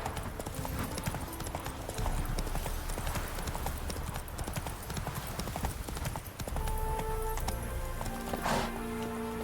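The horse Roach galloping in The Witcher 3: rapid, steady hoofbeats throughout, with game ambience and a voice speaking over them.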